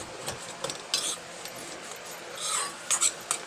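A spoon scrapes and clinks against a pan in short, uneven strokes while black salt, plain salt and khatai are stirred into potato filling for samosas, the sounds close but fairly soft.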